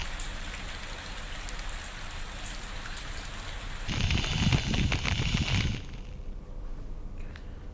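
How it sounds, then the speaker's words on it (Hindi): Steady rain falling late at night in Mahasamund, a constant hiss that swells into a heavier, louder downpour for a couple of seconds before easing back to a softer patter. "महासमुंद में भी देर रात से बारिश हो रही है"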